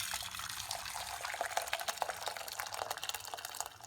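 Water splashes and gurgles as it is poured into a pan for candle making, a continuous liquid rush with small bubbling spikes, fairly quiet and close, with no talking.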